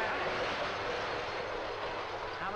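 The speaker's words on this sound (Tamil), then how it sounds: "ட்ரெயின் வந்துச்சு" A train arriving in a 1982 Tamil film scene, heard as a loud, steady rumbling roar of rolling carriages that fills the whole stretch at close range.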